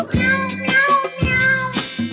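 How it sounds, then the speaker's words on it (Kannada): A cat meows four times in quick succession, loud and close, each call drawn out and tonal. "ಬೆಕ್ಕು ಹೇಗೆ ಕೂಗುವುದು?"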